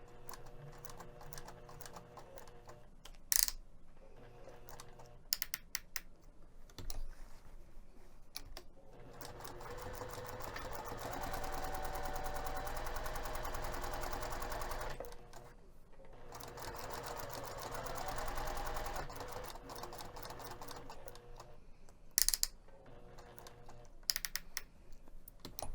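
Sewing machine stitching a tote bag, running in two sustained loud bursts of steady whirring with short pauses and faint handling clicks between them, no talking.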